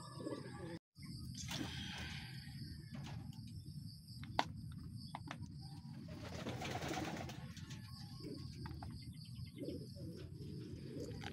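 Pigeons coo softly in a low, continuous murmur with insects chirping in the background, faint and steady throughout.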